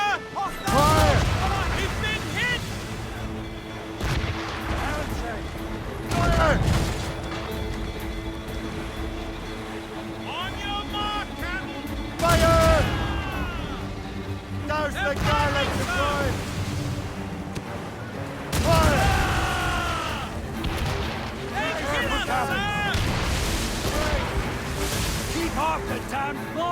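Cannon broadsides boom from sailing ships in a naval battle in Assassin's Creed Rogue, with several heavy volleys spaced through the scene, each thundering and then rumbling away over the sea ambience, with shouted voices between the shots.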